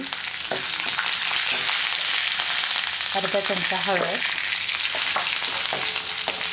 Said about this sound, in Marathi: आपली मसाला कढी आहे, छान झणझणीत फोडणी लागली आहे.